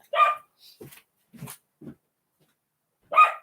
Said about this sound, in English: I'm going to let my dog stop making the noise before I continue.